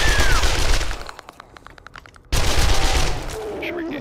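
Close gunfire in 7 Days to Die, a quick rattling volley of shots, a brief quieter gap, then another loud burst of noisy firing.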